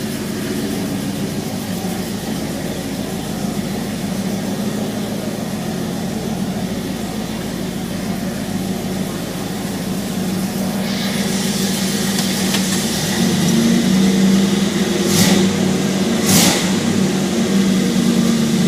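A 1971 Oldsmobile Cutlass convertible idles and rolls in with a steady mid-pitched engine rumble, then revs up louder toward the end, close and without voices.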